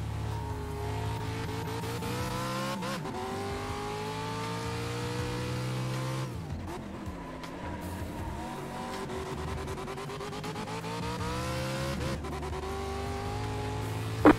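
Race car engines drone continuously at steady volume in a Pro 2 Lites racing video game at Oran, with other cars passing, occasional tire squeal and a sharp click at the end.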